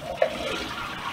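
Cold tap water pouring steadily onto broccoli in a kitchen sink, a continuous soft rushing stream with a brief splash near the start, no speech.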